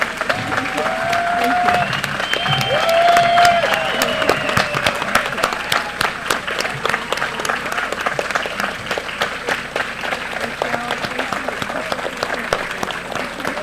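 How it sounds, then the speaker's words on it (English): Applause from the audience at a closing plenary session fills the room, dense and steady throughout, with a few cheers or whistles early on. "please join me on a round of applause"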